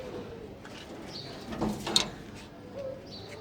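A pair of doves in a cage at a home pigeon farm give soft, low cooing calls, faint against quiet background noise.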